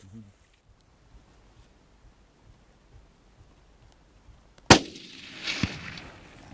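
A single sharp rifle shot fired while hunting blesbok in South Africa, a sudden loud crack after quiet breathing and faint rustling, followed by a rolling echo and a brief thump.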